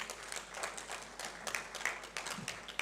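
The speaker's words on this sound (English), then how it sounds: "A big round of applause, ladies and gentlemen, for the team." A round of applause for the team at the AfrIPI launch event, a room of people clapping steadily in a moderately distant, diffuse patter with some louder individual claps throughout.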